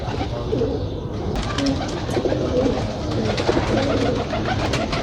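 Pigeons coo softly and repeatedly nearby, low burbling calls layered over a busy background with occasional sharp rustles.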